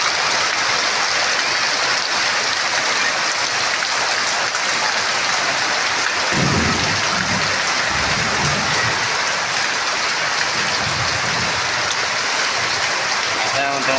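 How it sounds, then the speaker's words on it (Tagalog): Heavy rain roars continuously, with a deep rumble of thunder rolling in partway through and lingering beneath the downpour. "kay kusog po man ang ulan"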